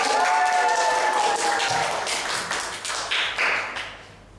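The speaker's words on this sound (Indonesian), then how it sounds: "Oke, tepuk tangan buat kita" Students in a microteaching English lesson clap together as a class, a brief burst of quick, fairly close hand claps that thins out into scattered claps, with a voice at the start.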